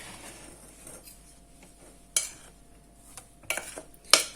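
Lemon cake batter is mixed in a bowl, with quiet scraping followed by a few sharp, close clinks of a utensil striking the bowl, growing more frequent toward the end.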